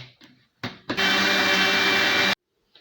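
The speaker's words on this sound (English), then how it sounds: "Now it's time to blend." A blender motor whirs loudly and steadily for over a second while blending a mango smoothie, after a few brief clunks and start-up bursts, then cuts off abruptly.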